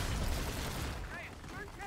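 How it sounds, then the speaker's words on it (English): Heavy anti-aircraft gunfire in the video game Call of Duty: Infinite Warfare, a dense continuous barrage of booming shots that fills the clip, easing slightly toward the end as faint high whistling tones cut through. "AA guns are cutting us up."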